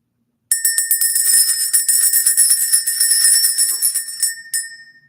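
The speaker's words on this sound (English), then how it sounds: "Let's ring the bell." A bell struck and rung repeatedly in a bright, sustained ringing shimmer, loud and close, ringing steadily for about four seconds before fading out alone, to clear energy during a spiritual reading.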